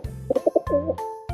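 Pigeons coo in a few short, soft, rounded bursts with brief pauses between calls, fairly close and fairly quiet, no other sounds around.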